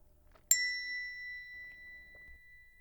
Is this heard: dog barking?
no